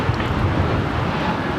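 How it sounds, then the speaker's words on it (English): Steady broad roar of a Porter Embraer E2 jet taking off at LAX, a continuous low rumble heard at a distance with wind buffeting the microphone, no voices. "Porter taking off in the E2"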